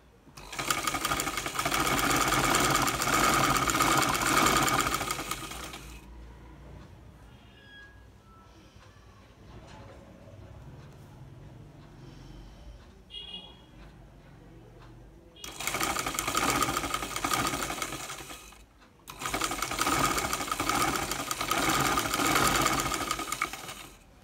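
A sewing machine stitches the side seam of a silk kameez in loud, fast, steady bursts, running for several seconds, stopping for a quiet stretch, then starting again twice.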